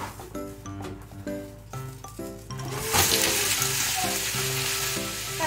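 Food sizzles steadily while pan-frying, a bright close crackle that swells louder partway through, with music playing over it.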